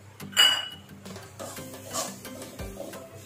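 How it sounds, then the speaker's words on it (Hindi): Chopped dry fruits and sugar syrup being stirred into modak filling for Ganesh Chaturthi, with a spoon clinking and scraping against a metal pot in short bursts throughout, close and moderately loud, no voices. "इसको अच्छे से मिक्स करना है जब तक कि अच्छे से मिक्स नहीं हो"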